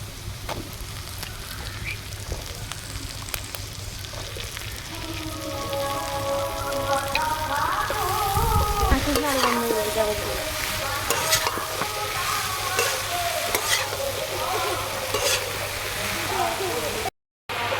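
Taro stolons hit a hot pan and fry with a steady, loud sizzle while being stirred with scraping strokes, and a voice talks over the cooking partway through.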